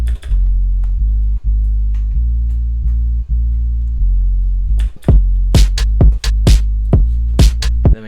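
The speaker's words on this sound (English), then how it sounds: "We got this bass line right here." EDM bass line: deep, heavy sustained bass notes in a repeating pattern with short gaps between them, loud and upfront, joined later by sharp bright hits. No voices are present.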